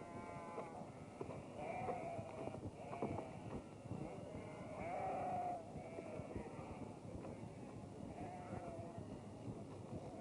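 Sheep bleating outdoors on a Central Asian steppe pasture: repeated bleats rise over a busy rural background of hooves and movement, fairly close, with no clear speech.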